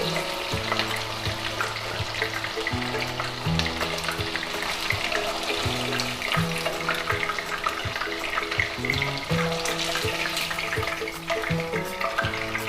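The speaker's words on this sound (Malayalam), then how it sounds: "ഇനി ബാക്കിയുള്ള ചിക്കൻ ഇതേപോലെ 2-3 സെക്ഷനായിട്ട് നമ്മൾ ഇതേപോലെ വറുത്തെടുക്കണം" Chicken pieces for a Kerala-style ginger chicken fry steadily in hot oil over a high flame, giving a continuous bubbling sizzle at moderate volume with no voices.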